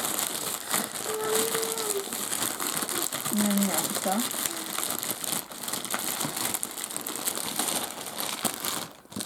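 Plastic gift packaging holding homemade sweet biscuits crinkles and rustles as it is opened, a steady close crackle running throughout, with a brief voice in the middle.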